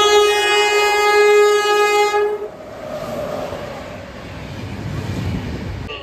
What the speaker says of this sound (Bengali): অনুগ্রহ করে শুনবেন, 1 নম্বর প্ল্যাটফর্ম দিয়ে থ্রু ট্রেন যাবে